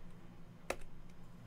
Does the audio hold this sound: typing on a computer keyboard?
yes